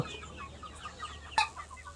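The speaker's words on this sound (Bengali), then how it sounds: "নিজেরই বাঁশ এখানে মুরগি সুন্দরভাবে খাইতে পারে" Chickens at a homemade bamboo feeder on a low-budget poultry setup give soft, quiet clucks, with one sharper cluck standing out near the middle against faint background noise.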